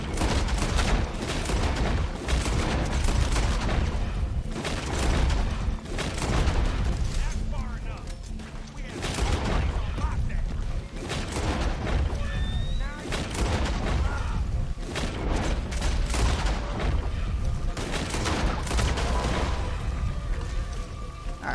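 Rapid Gatling gun fire in Red Dead Online, long loud bursts of rattling shots with brief pauses, repeating across the whole stretch amid other battle noise.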